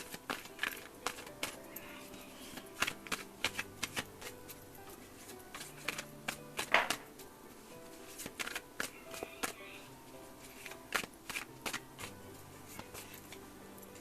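Tarot and oracle cards being shuffled, a steady run of soft papery flicks and riffles with brief louder snaps, mostly close and moderately quiet over a faint background.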